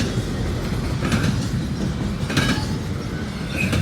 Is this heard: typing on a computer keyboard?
no